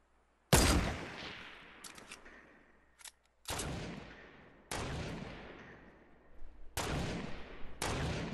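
Sniper rifle shots in the Fortnite video game ring out as four or five sharp, loud cracks spaced a second or more apart, each trailing off in a long echoing tail.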